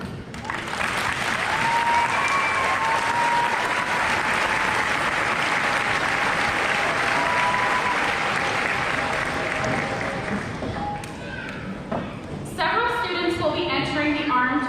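Audience at a high school graduation clapping loudly and continuously for over ten seconds, then fading as a voice begins speaking over a public address system.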